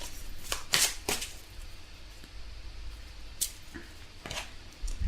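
Tarot cards being shuffled and drawn by hand, giving a few soft riffling bursts and light slaps spread across the stretch, fairly close with quiet pauses between them.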